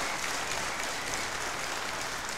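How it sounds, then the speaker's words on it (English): A wrestling crowd at an independent show applauds steadily in a packed venue, sustained clapping and cheering rolling on throughout without letup, urging a struggling wrestler back into the match. "This crowd trying to will Hammerstone back into this match"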